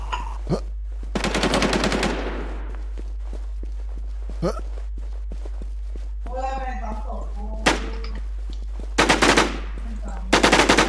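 Automatic gunfire rattles in the online survival shooter Infestation SEA. One rapid burst comes early, two more close together near the end, with footsteps, a few softer knocks and a person talking briefly between them.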